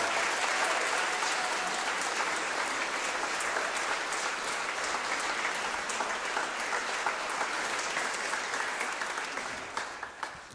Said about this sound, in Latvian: Aplausi skolotājai Ausmai Kreitsbergai